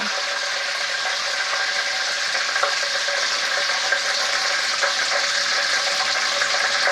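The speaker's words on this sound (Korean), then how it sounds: "이렇게 한번 이렇게 튀기면요 바로 한꺼번에 튀기는 거" Steady, dense bubbling and crackling of oyster mushrooms deep-frying in oil, continuous and fairly loud with no talk over it.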